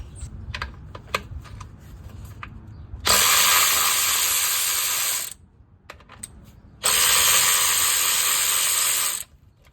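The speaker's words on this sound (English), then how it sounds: "I like to remove the clutch" Ratchet clicking as it loosens the clutch bolts on a Nissan 240SX KA24DE five-speed transmission, two loud bursts of rapid ratcheting a few seconds each, separated by quieter handling clatter.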